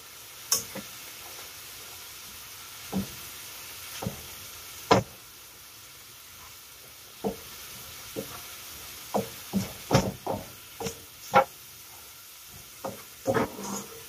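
Finely chopped onions fry in a pan under a soft, steady sizzle, while scattered sharp knocks and scrapes of a utensil stirring against the pan come at irregular intervals.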